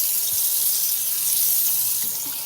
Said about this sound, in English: I have a handful of these little cherry tomatoes. I'm gonna rinse them off.